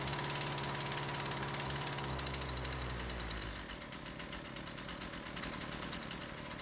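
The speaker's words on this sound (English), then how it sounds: "Pull the starter rope until the engine runs." A small gas engine on a Husqvarna string trimmer is pulled with the starter rope and catches, ratcheting and sputtering before settling into a steady buzzing idle, close and moderately loud, with no talking.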